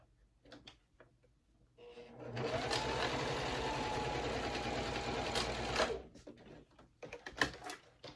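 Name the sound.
domestic sewing machine top stitching a wallet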